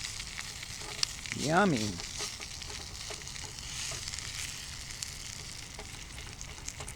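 Food sizzles and fries in a pan at a campsite, stirred with a cheap Dollar Tree spatula; a steady crackle runs throughout with scraping strokes, and a short spoken word rises over it early on.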